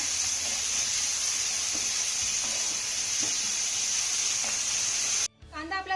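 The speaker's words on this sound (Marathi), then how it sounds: "एक बारीक चिरलेला कांदा यामध्ये घालायचा आहे आता कांदा आपल्याला चांगला मौसूद होईपर्यंत परतून घ्यायचा आहे" Chopped onion frying in hot oil with cumin, a steady close sizzle and hiss that runs for about five seconds and then cuts off abruptly, with quiet clatter underneath.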